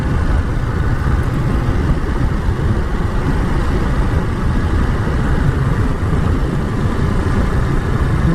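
Steady low engine drone and road wind from a 2022 Ducati Monster motorcycle ridden through bends, loud and continuous with no speech.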